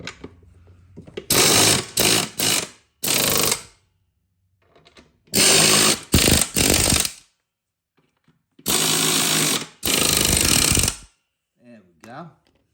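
A power tool with a 1/2-inch socket drives bolts while assembling a 2012 Troy-Bilt TB 240 mower. It gives several loud, close bursts of whirring and rattling, with short quiet gaps between them.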